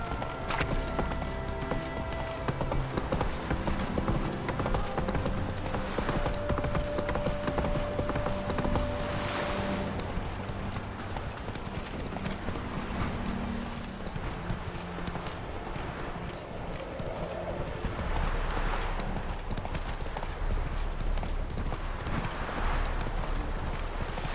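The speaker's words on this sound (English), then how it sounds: "Run, Roach" Roach the horse gallops through The Witcher 3, hooves clip-clopping in a fast, steady rhythm that runs the whole way, with a brief whinny and faint ambient game sound underneath.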